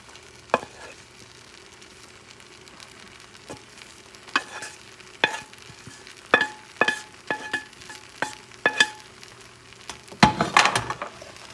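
Shrimp frying with onions and vegetables for pancit bihon, a quiet sizzle broken by sharp, irregular utensil scrapes and clinks against the pan, denser toward the end, close by with no voices.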